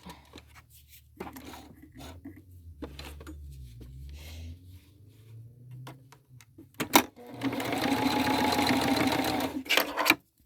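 A sewing machine stitches a flat felled seam in a home sewing room, its steady mechanical whir running loud and near for about two seconds in the latter part, after quieter handling noises and faint thumps.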